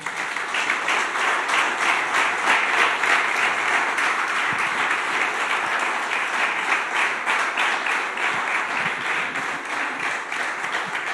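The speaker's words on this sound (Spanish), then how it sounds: "Dale un aplauso al Señor." Church congregation applauds during a Spanish-language sermon, sustained rhythmic clapping from many hands ringing through the hall at a steady, full level for over ten seconds.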